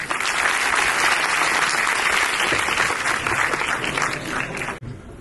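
A college audience gives loud, dense applause that holds steady for about five seconds, then cuts off abruptly.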